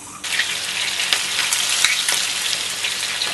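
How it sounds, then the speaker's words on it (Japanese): Chicken pieces sizzling in oil in a pan on the stove, a steady close crackle and hiss with small pops scattered through it, heard alone. "それでは油を敷いて火をつけて、まだ冷たいうちに鶏を入れていきます。"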